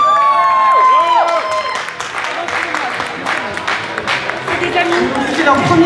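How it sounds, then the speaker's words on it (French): A crowd at a cosplay contest claps and cheers for a winning group, with applause building steadily under an amplified voice talking over it. "On peut les applaudir encore plus fort s'il vous plaît"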